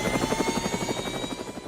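A steady whirring electric fan motor from a Mercedes W208 CLK hums with a fast pulsing beat, running on 7 volts, continuously, close and fairly loud, ending in a faint click.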